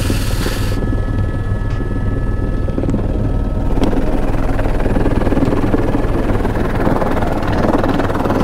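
Helicopter at the Everest base camp helipad, a steady loud rotor thrum and engine whine filling the whole stretch, close and continuous with no talk.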